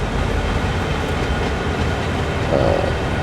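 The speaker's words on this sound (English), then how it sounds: "Both locomotives work in tandem to do the job" Two locomotives working in tandem during yard switching in Train Sim World 3, a loud continuous rumble of engines and rolling rail stock with a brief squeal partway through, no talking.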